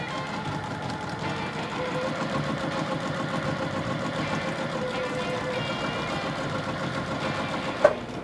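A sewing machine stitching down one side of a quilt produces a continuous mechanical whirring hum at moderate volume, ending with a single sharp click.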